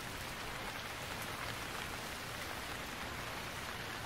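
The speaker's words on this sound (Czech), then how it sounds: "A začíná pršet." Rain falling in the survival video game Stranded Deep, a constant, close wash of drops pattering on surfaces, unbroken and uniform for the whole stretch.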